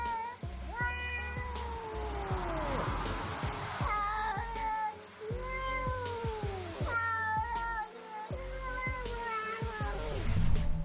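A cat and a man trade drawn-out meows back and forth, the man imitating a cat's voice; a series of close, clear, wavering calls follows one after another.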